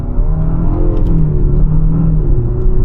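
A 2025 Infiniti QX60 VC-Turbo drives with a loud, close engine hum and rumble that rises in pitch as it accelerates, steady throughout the short stretch.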